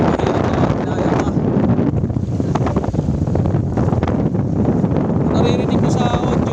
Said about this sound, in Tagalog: Naririnig ko sa audio, napakalakas naman ng hangin, diba?